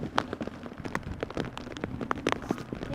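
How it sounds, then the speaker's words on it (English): Rain falls at Amsterdam Schiphol Airport, a dense crackling patter of drops hitting hard surfaces nearby with uneven, scattered taps throughout. "Then it started raining indeed."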